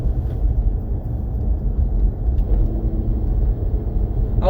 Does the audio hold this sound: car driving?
yes